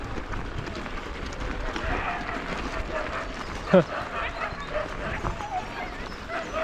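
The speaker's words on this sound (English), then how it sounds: "So this, I imagine, is the dog sled team that I was hearing." Sled dogs barking and whimpering in the distance over outdoor woodland ambience, with people talking nearby and one sharper yip standing out.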